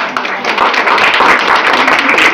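An audience claps at a live singing event in Gopalganj, a dense, continuous burst of applause lasting a couple of seconds.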